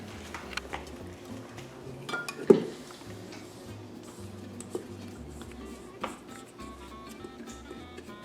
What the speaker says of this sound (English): I'm going to finish scraping the bowl.